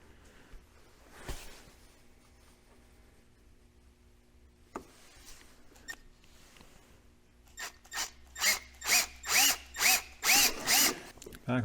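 A power drill bores out rivet marks on a full-body skid plate for a 2023 Ski-Doo Expedition SWT snowmobile, giving about eight loud, close whirring bursts in quick succession after a quiet stretch with a few faint knocks.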